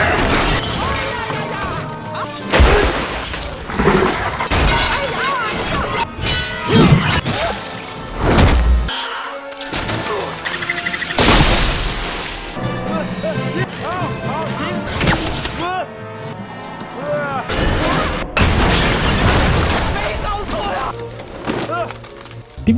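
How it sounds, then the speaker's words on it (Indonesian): A house collapses in a fantasy film about the Monkey King, with crashing, shattering and splintering wood impacts mixed with dramatic music and a narrator's voice throughout. "Tiba-tiba rumah mulai runtuh"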